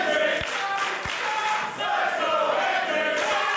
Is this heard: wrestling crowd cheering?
yes